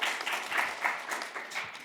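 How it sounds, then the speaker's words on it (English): A conference audience gives a short round of applause for panel presenters, a brief burst of many hands clapping at moderate volume, steady and fairly close. "let's just give a quick round of applause to all of our presenters"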